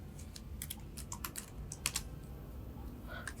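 Computer keys are tapped to delete text in a Word document, a quick irregular run of soft clicks over a low steady hum, with no speech.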